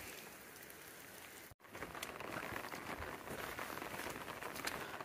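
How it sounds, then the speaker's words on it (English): Rain falls steadily on a hiking trail along the Continental Divide, a soft, even patter that briefly cuts out and then returns a little louder. "Rain has set in."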